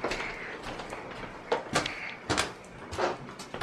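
An interior door opens or closes in a school building's West Wing, with a few sharp knocks and thuds scattered over a few seconds against a quiet room.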